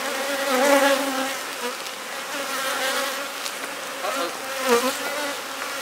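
Dense, steady drone of many honeybees buzzing around an opened hive colony being split, a close swarm hum with wavering pitch and small swells, no voices.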